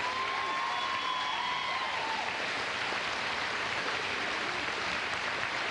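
A graduation audience gives a sustained round of applause, a continuous even wash of many hands clapping at a distance, with a faint tone briefly audible early on.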